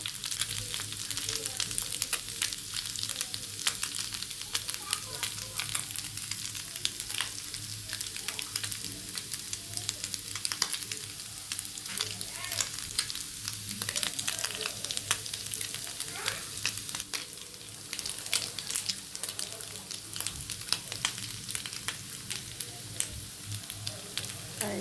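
Fish fries in oil, browning deeply, producing a steady, dense crackling sizzle throughout with a low background hum and no talking.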